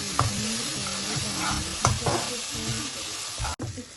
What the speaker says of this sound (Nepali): त्यस्तो मजाले भुट्ने अनि थोरै पानी हाल्ने